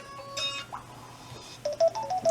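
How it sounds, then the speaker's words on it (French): Stock ringtone of a Samsung Galaxy Xcover3 smartphone, a short run of bright electronic chime notes rising after a brief synthetic tone, playing fairly quietly close by with no talking. "donc on entend bien le son de Samsung de base"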